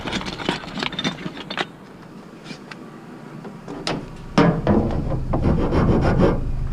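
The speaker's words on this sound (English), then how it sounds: "Guess I could take my file to it." Metal file rasping against a fiberglass stick in repeated short strokes, close and fairly loud, with a brief pause before heavier, denser scraping resumes.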